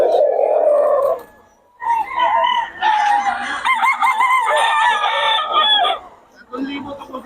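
Roundhead chickens for sale, with a rooster crowing loudly and nearby in long drawn-out calls, surrounded by clucking from other fowl.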